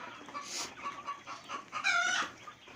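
Chickens on a small village farm of about 50 to 100 birds in Thakurgaon cluck in short, scattered bursts, with one louder drawn-out call near the end, close by and without speech.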